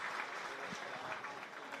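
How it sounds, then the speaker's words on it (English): Crowd cheering and applauding at a junior camogie Munster final between Tipperary and Limerick, a steady broad roar of spectators holding for about two seconds with a faint commentator voice underneath. "the crowd are happy, and a big cheer as Aoife"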